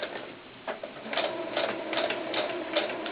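A sewing machine runs a seam on a doll's baseball cap, a quiet, rapid ticking stitch with a few brief surges in speed.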